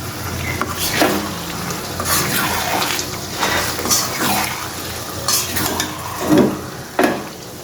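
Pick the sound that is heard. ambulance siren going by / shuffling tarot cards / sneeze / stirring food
stirring food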